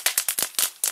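A rapid string of six sharp firecracker bangs, each a loud broadband crack with a short decaying tail, going off close by in quick succession.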